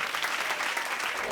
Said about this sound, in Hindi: ये जोरदार तालियां इस हमारे कलाकार के लिए।